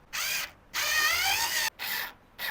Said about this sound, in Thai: ก็เริ่มเจาะกันเลยนะครับ